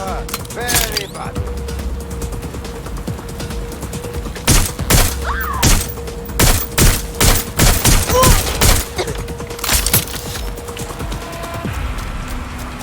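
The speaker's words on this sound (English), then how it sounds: "I'm taking fire here." Gunfire in the video game Watch Dogs: Legion, a loud fusillade of sharp shots in irregular bursts and rapid clusters over a steady hum, with mechanical clicks and creaks between volleys.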